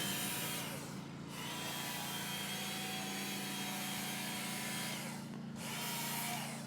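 A knife is being sharpened on a polishing belt. A steady, fairly loud motor hum and belt whine run throughout, with two brief softer dips where the blade seems to lift away, and no talking.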